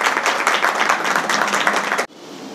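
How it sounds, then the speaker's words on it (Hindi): An audience bursts into loud, steady clapping to welcome the chairman at a political gathering. The dense applause fills the room for about two seconds, then cuts off abruptly, leaving quiet room tone. "एक बार ताली बजाकर अध्यक्ष जी का जोरदार स्वागत कर दीजिए"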